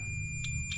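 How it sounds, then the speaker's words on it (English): A multimeter sounds short continuity beeps while probing a Chevrolet Caprice's seat wiring, two brief bright chirps about a quarter second apart over a low hum. "That beep. That means we got continuity from that line to that line."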